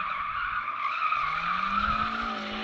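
Golf MK4 GTI drifting, its tires squealing in a sustained high screech while the engine note climbs underneath, close and loud.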